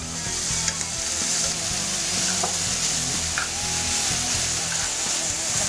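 Ingredients sauté in a pan for pasta, giving a steady, close sizzle and fry hiss with light stirring scrapes and clinks throughout, no voices.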